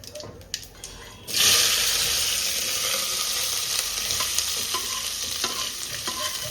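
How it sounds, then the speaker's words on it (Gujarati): Popcorn curry ingredients dropped into a hot pan on the stove, a sudden loud sizzle after a quiet start that settles into steady frying hiss with occasional stirring clinks. "પહેલા થોડો ફ્રાય કરવાનો।"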